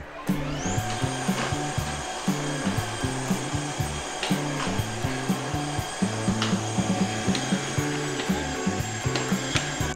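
A Tineco S6 Stretch wet-dry floor cleaner runs continuously up close, a steady motor whine over a rhythmic low rolling rumble as it moves back and forth across the floor, with no voices.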